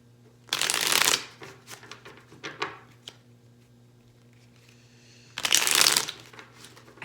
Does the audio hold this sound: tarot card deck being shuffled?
yes